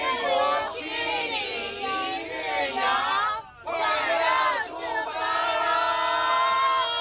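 Excited group of passengers cheering and shouting together aboard a tour bus setting off on a charity day trip around Kaohsiung, a loud, dense wash of voices that dips briefly midway before swelling again.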